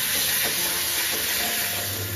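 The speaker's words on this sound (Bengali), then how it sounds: "এই যে ম্যারিনেশন করা চিকেনটা ঢেলে দেওয়া হয়ে গেছে" Marinated chicken poured into a hot pan over lowered heat: a constant, dense sizzle and hiss close up, with no talk.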